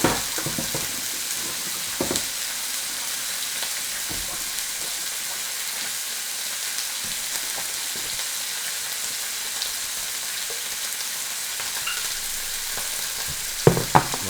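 Sausages for a rougail saucisse sizzling in a pan, a steady bright hiss of frying fat that runs the whole time, with a few light clicks of stirring and no talking.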